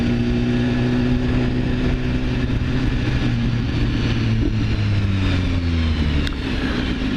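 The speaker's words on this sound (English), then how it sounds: "what I really, really like is, listen to this, the overrun popping noise it makes" A 2015 BMW S1000RR motorcycle engine runs close by, its exhaust note rising and falling as the revs shift, with faint overrun crackles near the end.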